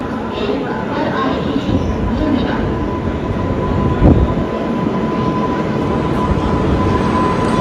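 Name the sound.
train at platform, Gatimaan Express arriving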